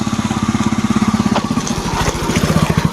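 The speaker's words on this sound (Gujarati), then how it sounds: "અંદર બાઇક મૂકવા જાય છે." A motorbike ridden in through the gate at Satkunda Mahadev temple: a close, steady thumping engine idle with an even pulsing beat that shifts slightly in tone midway and carries on to the end.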